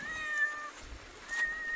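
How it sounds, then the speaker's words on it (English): A cat meows twice in a garden during the rainy season, with two short tonal calls separated by a pause and heard fairly close over quiet outdoor background. "What's up, kitty cat?"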